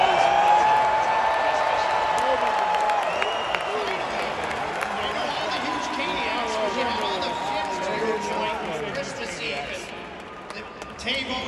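A Carolina Hurricanes home crowd does the Storm Surge clap after a hockey win, with arena noise, cheering and rhythmic claps echoing around the building while an announcer talks over it.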